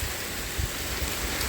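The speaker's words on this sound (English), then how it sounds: "It's starting to rain." Rain setting in during Hurricane Ian falls as a steady, dense hiss with a low, gusty rumble underneath, continuous and fairly loud with no voices.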